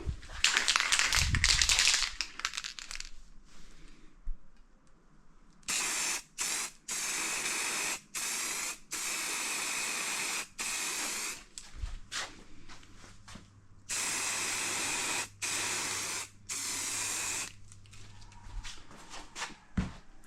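An aerosol can sprays a coat of paint onto boat extras in several long, loud hissing blasts, each lasting one to three seconds, separated by short pauses with faint handling taps.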